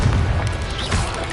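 The Confringo blasting spell in the video game Hogwarts Legacy goes off as a short, heavy booming burst, loud and close, with a second low thump following shortly after.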